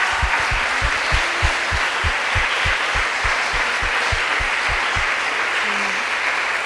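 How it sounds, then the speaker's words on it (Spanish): Church congregation clapping together in a steady rhythmic beat, fairly loud and close, with no talk over it. "te voy a dar un aplauso porque hecho está"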